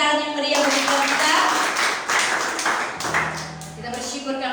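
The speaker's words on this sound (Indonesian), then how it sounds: "Kita berikan tepuk tangan yang meriah bagi kita." Clapping from a church congregation at a worship service, steady for most of the moment and tapering off toward the end, with a voice and some tonal music continuing beneath it.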